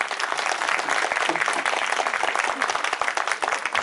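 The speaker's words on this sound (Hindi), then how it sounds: "सभी के लिए एक बार जोरदार तालियां करें" An audience applauds at a school annual function at City Montessori School in Ganiyadeoli, Ranikhet. The clapping is dense, loud and steady throughout, with no break.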